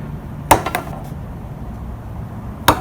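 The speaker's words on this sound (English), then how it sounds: "I'm making room for the wood to split when I chisel" A chisel strikes wood while a cross is cut for a steam-bent iPad stand: two sharp knocks land close together early, a quieter tap follows, and one more crisp strike comes near the end over a faint room hum.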